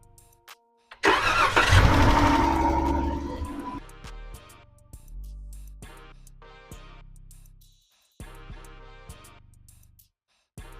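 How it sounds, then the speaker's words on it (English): A 2015 Chrysler 200C with the 3.6 engine cranks and fires up in a loud burst, then settles toward idle and drops away, followed by a few short clicks and quieter restarts in a garage. "Alright guys, we're about to start the car and see if there's any leaks or anything going on."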